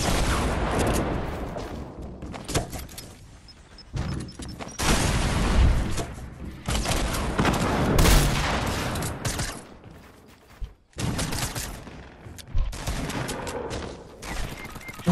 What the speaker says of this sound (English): I got a grenade launcher, too.